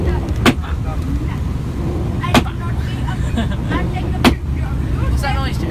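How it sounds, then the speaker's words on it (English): Windscreen wipers on a school coach thump in a slow, regular rhythm, about every two seconds, over a constant low engine and road rumble. "The windscreen wipers, I think."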